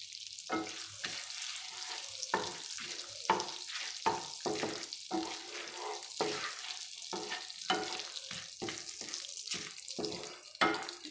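Bay leaf, cardamom pods, cinnamon sticks and cumin seeds frying in melted butter for paneer masala, a steady soft sizzle broken by repeated stirring scrapes and clatters, close and fairly quiet with no talk.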